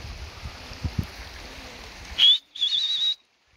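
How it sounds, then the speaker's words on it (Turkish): A whistle blown to call racing pigeons home, two shrill steady blasts, the second longer, ringing out clearly over a soft outdoor background of wind or running water. "Düdüğe alıştırmaya çalışıyorum."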